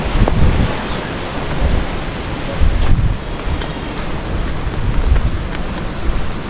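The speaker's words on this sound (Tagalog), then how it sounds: "Lakas ng hangin mga kabady." Strong typhoon wind from storm Pepito roars steadily and loudly, a dense broadband rush with gusty surges and buffeting against the microphone, with no voices present.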